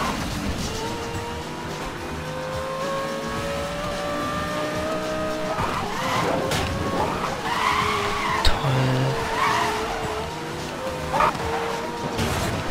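A car drifts in Need for Speed Most Wanted (2012), its tyres squealing in long sustained skids over a loud engine roar, with a short honk-like burst partway through.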